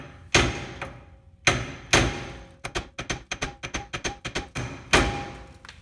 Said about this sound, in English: I give it some taps with this big hammer